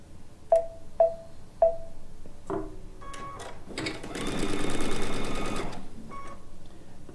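After a few short clicks and taps, a sewing machine whirs in one sustained burst while stitching a quarter-inch seam with a piecing foot on a chicken pin cushion, close and fairly loud, then stops.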